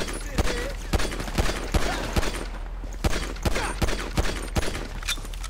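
Rapid bursts of gunfire in the video game GTA 5, a run of sharp repeated shots spaced through the moment over constant game ambience, with players talking briefly.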